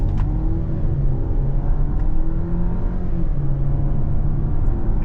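A 2023 Dodge Hornet GT Plus AWD with the Hurricane engine and an 8-speed automatic accelerates steadily on the road, its engine drone and road rumble rising smoothly and continuously from inside the cabin.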